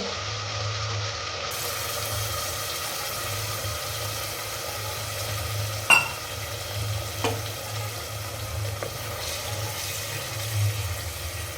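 Masala being stirred and fried in oil for chicken biryani, a steady soft sizzle with a low hum throughout and a few sharp clinks of a spoon against the pan.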